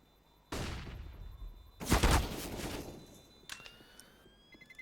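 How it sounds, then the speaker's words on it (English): Gunfire in a competitive CS match between CR4ZY and AVEZ: a sharp burst of shots, a louder volley soon after, then fainter scattered pops fading out, no talk. "hold on to the AK. No, Kai takes him down"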